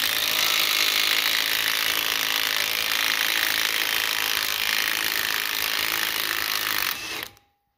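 A Milwaukee M12 Stubby impact tool hammers steadily for about seven seconds, removing a ball joint from a Subaru knuckle with a Company23 removal tool, loud and close, then cuts off abruptly.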